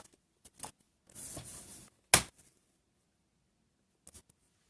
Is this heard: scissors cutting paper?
yes